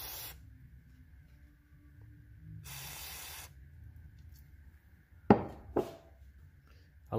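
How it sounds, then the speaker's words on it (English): Brake cleaner sprays onto valve keepers during a 2003-04 SVT Cobra cylinder head assembly, with one sustained hissing burst and then two short, sharp spritzes in a quiet workshop. "clean them with some brake clean"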